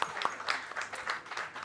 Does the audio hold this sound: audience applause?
yes